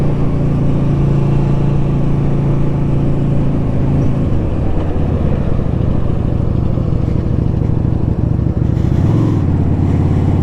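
A Yamaha V Star 250 motorcycle engine runs with a steady low rumbling drone, loud and close, holding a constant pace with a slight change near the end and no talk.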